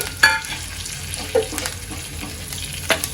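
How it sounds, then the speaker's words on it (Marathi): Asafoetida, whole spices and curry leaves fry in hot oil for katachi amti, giving a soft, steady sizzle broken by a few light clinks and scrapes from stirring. "या सर्वांना एकत्र मी फ्राय करून घेते"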